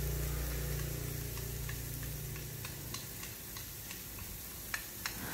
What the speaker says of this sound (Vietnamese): Mình sẽ cho hết vào trong cái chảo mình xào luôn.